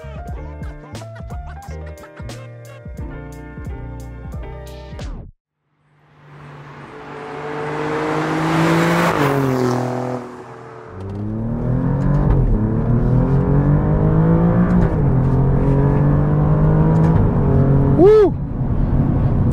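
A 2023 Alfa Romeo Giulia Quadrifoglio, rear-wheel drive with an 8-speed automatic, accelerating hard: loud rising engine roar through a gear change, a brief dip, then a second strong pull, with music in the opening seconds.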